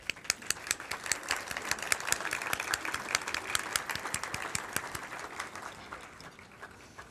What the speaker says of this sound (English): If you would rise, and we'll applaud you.